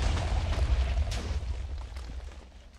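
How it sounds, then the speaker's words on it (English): TNT detonating in Minecraft: a deep booming blast with low rumble that swells early, then a few sharp crackles as the roar slowly fades out. "TNT. Get ready to hear a loud explosion."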